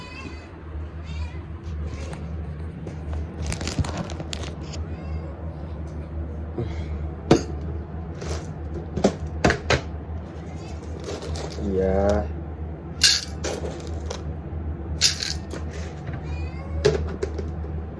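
Several short meows from a cat being fed rise over steady background noise and scattered clinks, with a person speaking briefly nearby.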